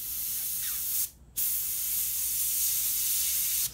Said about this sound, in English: Testing my black, see what's going to do before I spray on the bait.